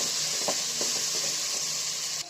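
Masala sautés in a pan for a Tamil kotthu chapati, giving a steady soft sizzle with a few faint stirring scrapes and clicks, close and fairly quiet, ending abruptly.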